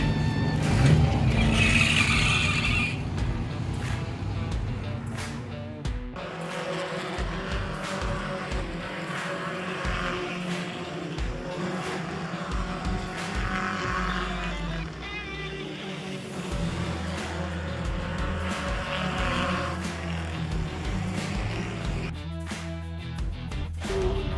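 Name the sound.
race cars practicing at Hickory Motor Speedway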